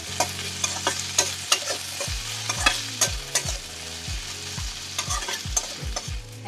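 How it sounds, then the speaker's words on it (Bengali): Bitter gourd (ucche) frying in a pan, a steady hot-oil sizzle with repeated scraping and stirring strokes of a spatula, close and fairly loud, no voices. "এখন আমার উচ্ছে ভাজাটা আশা করি হয়ে গেছে।"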